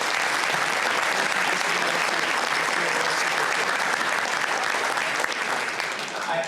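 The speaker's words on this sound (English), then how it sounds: "A round of applause for our retired coaches." At a high school Hall of Fame induction ceremony, a large audience applauds continuously, dense and loud throughout, tapering slightly near the end.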